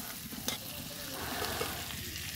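Potatoes fry in a pan with a constant, close sizzle and crackle, a steady hiss running throughout with a light stir or two.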